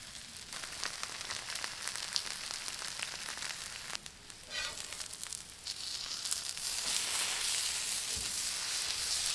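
Buffalo chicken tortilla skewers with cheese crisp on a very hot griddle, giving a continuous close sizzle and crackle that swells louder in the last few seconds, with no talking.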